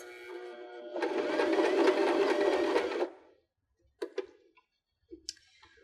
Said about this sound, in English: now we can use our foot control and sew the rest of the button with 8 to 10 stitches